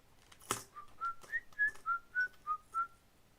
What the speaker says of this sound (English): I'm actually pretty bad at whistling.